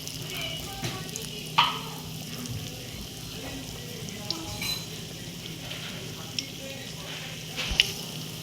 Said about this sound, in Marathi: त्याला चांगले फ्राय करून घेते मी आता.